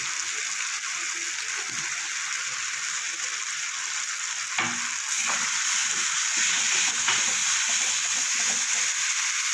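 Spice masala sizzling in a pan with a splash of water, cooking down for a charapona fish curry, a steady hiss that grows louder midway with occasional stirring scrapes.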